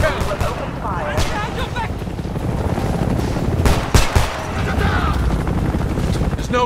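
Rapid gunfire in the Homefront video game: dense, continuous bursts of automatic shots close by, with a few sharper loud cracks, over a busy battle din and shouting voices.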